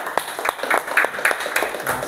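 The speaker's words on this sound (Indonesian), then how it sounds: "tepuk tangan untuk kita semua" A classroom of students claps together in uneven bursts of applause, close and fairly loud, with a few voices mixed in.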